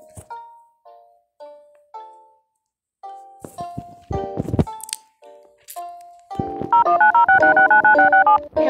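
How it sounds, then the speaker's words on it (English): Electronic keypad tones of an emergency phone aboard an airplane in a video game: a series of short, separate beeps, followed by a louder, steady repeating ring pattern near the end. "Here's the emergency phone."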